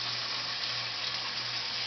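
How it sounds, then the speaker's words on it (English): Continuous, steady sizzling of chicken frying in a hot pan, close and even, with no talking. "Carefully place the chicken in, and you hear that sizzle?"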